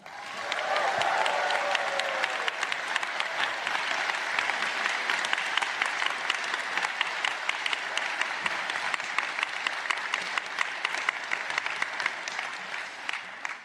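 Audience applause welcoming Akshata Murthy and Rishi Sunak at a speaking event, a dense, steady roar of clapping hands that fills the room at full strength for the whole stretch without fading.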